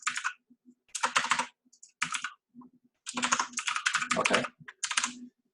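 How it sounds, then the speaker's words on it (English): Rapid bursts of typing on a computer keyboard, with clusters of close, crisp keystrokes separated by short pauses; one brief spoken word is heard. "why is it not letting me type screens?"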